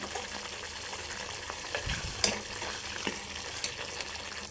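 Brinjal gravy bubbling in separated oil in a pan, a soft continuous sizzle with a few low thuds and scattered pops, fairly quiet and close, no speech.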